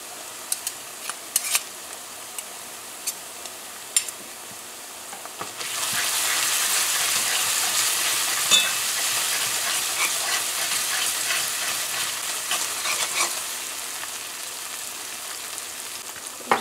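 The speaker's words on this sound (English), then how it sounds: "So you want to let this fry up for about a minute or so." Tomato paste fries and is stirred with cabbage in a pot for a Guyanese stewed cabbage, first with a few scattered clinks, then a steady sizzle with scraping stirs, close and moderately loud, with no talking.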